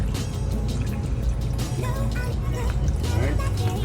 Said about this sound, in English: I'm going to go ahead and pour some vinegar in there